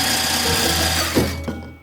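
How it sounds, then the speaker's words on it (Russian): An electric mixer whirs steadily at close range, beating whole eggs for a mazurka cake batter, with a continuous motor whine and a couple of brief knocks as it slows near the end. "Берите миксер и взбивайте прямо так"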